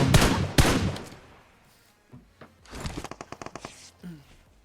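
Gunfire in a shooting game: two heavy shots up front, a few scattered pops, then a rapid burst of automatic fire with a short trailing shot.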